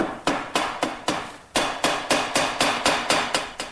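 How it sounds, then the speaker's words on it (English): Sharp, evenly spaced hammer blows drive glued quarter-inch wooden dowels into pre-drilled holes, about a dozen close, loud strikes in a quick steady rhythm. "take these little 1/4-inch dowels and just put a little bit of glue on them, and then drive those in through my pre-drilled holes"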